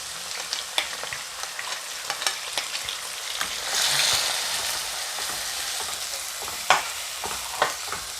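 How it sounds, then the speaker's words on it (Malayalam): Sliced onions sizzling and frying in a pan for rajma, a steady soft crackle broken by scraping clicks of a spoon stirring, close and fairly quiet with no talking. "നമ്മള് സവാള ഇട്ട് കൊടുക്കില്ലേ നമ്മള് നമ്മുടെ സവാള അങ്ങ് ഇട്ട് കൊടുക്കുവാണേ"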